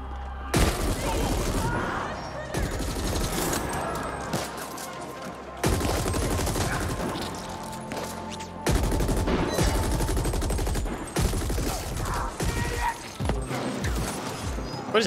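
A heavy machine gun fires in bursts in a top-down shooter video game, loud rattling volleys broken by short pauses, with someone talking between and over the shots.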